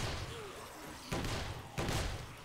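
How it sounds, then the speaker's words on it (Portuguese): Two sharp gunshots ring out in the survival video game 7 Days to Die, about a second apart, each a sudden loud crack over quiet background noise. "Ó, um tiro, uma morte."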